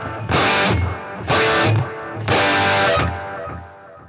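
Electric guitar run through a Boss GT-1000 Core with delay and reverb placed after the mastering effects, playing three distorted sustained chords, each ringing out into a trailing echo tail.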